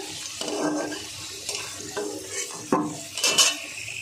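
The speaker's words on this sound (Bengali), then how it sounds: "আলুটা একটু লাল লাল করে ভাজবো" Potatoes frying in oil until reddish-brown give a soft, steady sizzle, broken by a few utensil scrapes and clinks against the pan, with a louder stir near the end.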